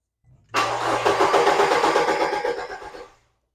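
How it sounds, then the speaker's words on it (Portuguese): A car's starter motor cranks the engine over for about two and a half seconds with a loud, rhythmic chugging, then stops without the engine catching. The car has a phase sensor fault, DTC P0343. "Vou ligar aqui o contato. Vou dar partida agora, ó."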